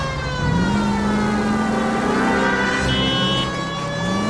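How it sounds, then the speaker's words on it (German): A police car siren in the game L.A. Noire wails in steady electronic tones over the hum of a revving engine, rising in pitch early on and holding loud and close. "Ich hab die Sirene an, Mann. Ihr müsst mir Platz machen."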